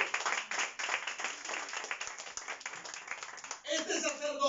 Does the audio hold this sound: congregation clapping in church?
yes